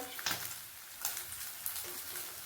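Anchovies fry in hot oil, giving a steady faint sizzle and crackle with a few brief sharper pops.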